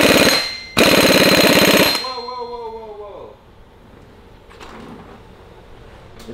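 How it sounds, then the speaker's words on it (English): Ferrari crank pulley being hit with an impact gun: two loud, dense rattling bursts of hammering, the second about a second long, ending with a ringing metallic tone that fades into quieter workshop noise. "we're gonna blast on the crank pulley with an impact gun"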